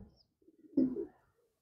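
A single racer pigeon coos once, a short low throaty burble rising after a quieter lead-in murmur, close and clear in a quiet setting with no talking.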